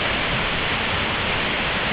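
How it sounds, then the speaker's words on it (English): Well-flowing waterfall at Empress Falls lookouts, a steady broad rushing roar without pause for two seconds. "Now this is what a well-flowing waterfall should look like."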